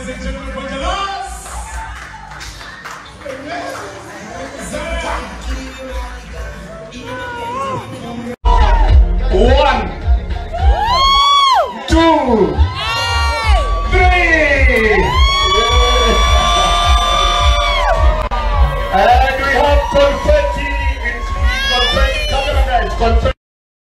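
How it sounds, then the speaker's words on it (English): Guests at a surprise graduation party for Jalang'o cheering and whooping, loud shrieks and excited cries rising over the crowd after a quieter opening, with voices calling out throughout. "Congratulations, a round of applause once more"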